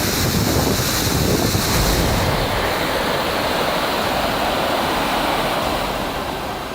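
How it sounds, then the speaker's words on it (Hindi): Floodwater gushes down a mountainside onto a highway, a loud steady roaring rush of water that holds for several seconds with no talking. "लगातार जहां तहां पहाड़ का सीना चीरकर पानी गिर रहा है"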